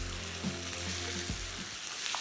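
Chicken pieces fry in a pan with ginger and garlic for a green masala chicken, giving a steady close sizzle with a few soft clatters of stirring throughout.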